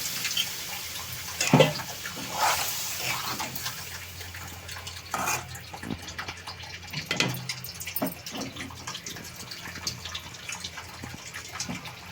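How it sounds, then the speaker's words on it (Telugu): Water splashes and trickles into a pot of eggplant, potato and drumstick curry in uneven bursts, with light clinks of the vessel in between. "కొంచెం నీళ్లు పోద్దామండి"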